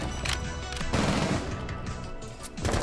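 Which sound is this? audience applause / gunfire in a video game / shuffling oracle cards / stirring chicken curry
gunfire in a video game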